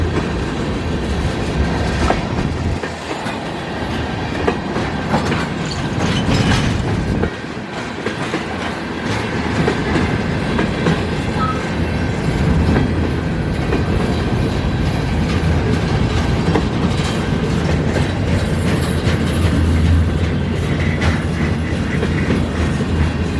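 An eastbound CN mixed freight train led by two locomotives rolls past at Battle Creek, Michigan, a loud continuous rumble with steady clickety-clack of wheels over rail joints and rattling cars throughout, no voices.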